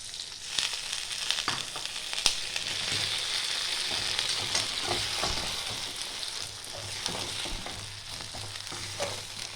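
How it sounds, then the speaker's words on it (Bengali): Jaggery and a little water bubble and sizzle in a pan while being prepared for a jujube (kul) pickle, a steady close frying hiss with occasional stirring scrapes throughout. "গুড়টা ভালো করে ফুটে গেছে"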